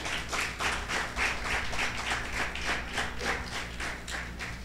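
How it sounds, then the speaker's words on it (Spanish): A church congregation applauds steadily, a dense patter of many hands clapping at an even level throughout, with no voices standing out. "denle un aplauso al Señor por eso."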